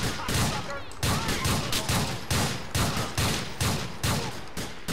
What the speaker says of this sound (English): there's a guy over here that was shooting at me too